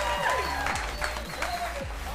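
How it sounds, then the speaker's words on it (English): Audience cheering and applauding at a women's esports final, a steady wash of crowd noise and clapping that fills the whole moment with voices mixed in. "The front row is cheering for you."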